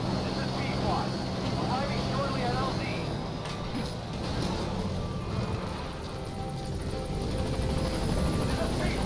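A support helicopter arrives in the Metal Gear Solid V video game: a loud, steady rotor thrum and engine roar fills the scene without a break, while a voice talks over it.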